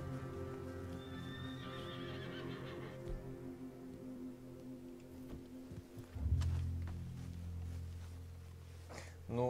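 A horse in the video game Red Dead Redemption 2 gives a clear, drawn-out whinny, followed by a louder burst of hoof clatter and movement near the end, all over a steady low game hum.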